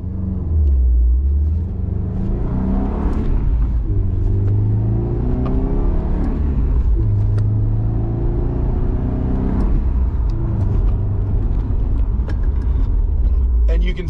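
Manual-transmission car accelerating through its gears, engine rumble rising in pitch and dropping back at each shift, steady and close throughout without pause.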